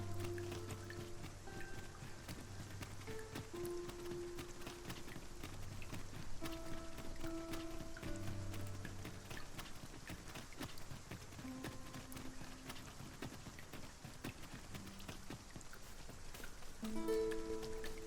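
Soft, steady patter of rain falling continuously, faint and even, with quiet musical tones drifting underneath.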